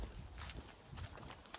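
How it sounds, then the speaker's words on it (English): Donkey hooves clip-clop in a steady walking rhythm during a donkey ride in Lebanon, faint and close, with outdoor background noise. "this was a much easier donkey riding experience"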